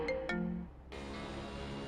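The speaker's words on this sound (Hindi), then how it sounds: "तभी ज्योति बुआ की बेटी प्रीति का फोन आया।" A mobile phone rings with an incoming call, two quick bright electronic tones followed by a sustained chiming ringtone melody, moderately quiet and without any talking.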